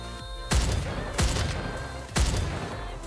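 Grenade launcher firing in the video game Goddess of Victory Nikke: three heavy, loud blasts, each a sharp boom with a rumbling decay, spaced unevenly over a steady game background.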